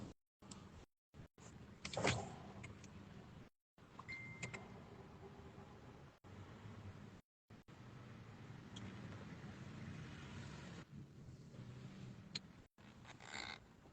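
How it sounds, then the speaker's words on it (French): Car power windows are raised inside a vehicle parked at a roadside, several long motor whirs broken by brief pauses and clicks, quiet and close with road noise beneath. "je suis en train de monter les vitres à cause du bruit comme je suis dans la voiture au bord de la route"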